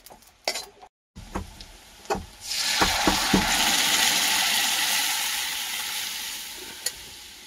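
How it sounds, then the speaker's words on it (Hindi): Cumin seeds fry in a pan while cooking a chicken kasha dish, a steady close sizzle starting after a few clattering knocks and holding loud for several seconds, with one sharp tap near the end. "मोर जीरा भजा चली"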